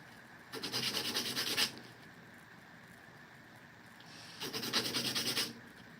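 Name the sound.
sanding sharp edges of circuit boards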